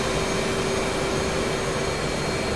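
Jet engines running in the flight simulator DCS World, a steady, dense roar with a constant whining tone, unchanging and loud throughout with no voices.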